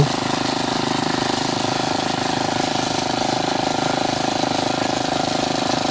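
An old 20th-century walk-behind tractor engine runs steadily and fairly close, with a continuous throbbing drone and no talk.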